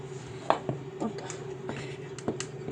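A few sharp knife chops through a very hard pumpkin on a cutting board, spaced irregularly, with a steady low hum in the background.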